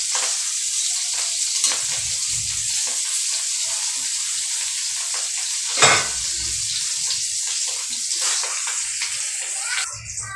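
Food fries and toasts in a pan, a bright continuous sizzle running loud and close, with occasional stirring scrapes and a sharper burst midway.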